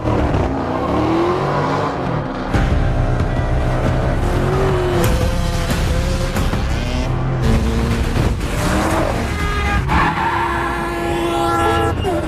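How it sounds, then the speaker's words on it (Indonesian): Cars in a film car chase, loud engines revving and tires squealing in repeated skids, with a bus crossing in front, intense and close throughout under a music score. "Sempat pengejaran Mike terhalang oleh sebuah bus yang melintas di depan sana"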